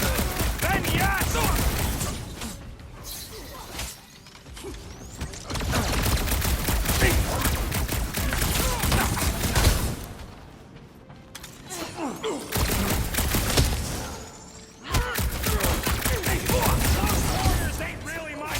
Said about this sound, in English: Shooting at us!